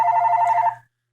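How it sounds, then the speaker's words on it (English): A house telephone gives one electronic ring, a steady buzzing trill that stops abruptly after under a second, close and alone with no talking. "We're just going to let that house phone ring."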